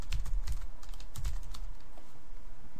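Rapid, close typing on a computer keyboard while entering a search query: a steady flurry of light key clicks and taps running throughout, with no speech.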